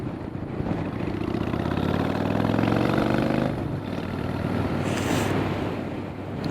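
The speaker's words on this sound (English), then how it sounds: "Behind me is engine braking, a little pressure on the front brake." A 1993 Honda VLX 600 motorcycle engine braking while being ridden, a loud, steady mid-pitched engine drone with wind rush that drops in tone partway through as the revs fall.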